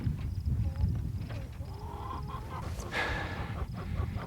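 Hens foraging out in rough pasture on a homestead give soft clucks and calls over a busy outdoor rumble, fairly close, with scattered rustling and movement.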